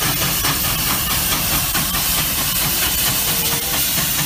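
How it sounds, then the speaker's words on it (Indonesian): A toy steam locomotive gives off a continuous loud steam hiss with faint rhythmic chuffing mixed in, and no one speaks over it. "Yang ini kereta api lokomotif."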